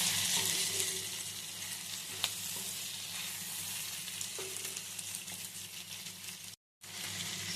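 Drumsticks and tomatoes frying in a pan, with a steady close sizzle and crackle throughout and occasional spoon scrapes as they are stirred, broken by a brief silent gap near the end.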